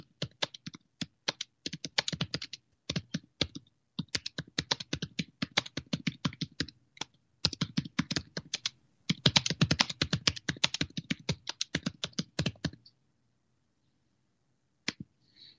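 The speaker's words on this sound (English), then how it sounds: "I'm gonna type her an update real quick." Someone types on a computer keyboard in quick, uneven bursts of close, crisp key clicks with brief pauses, stopping before the end apart from one last tap.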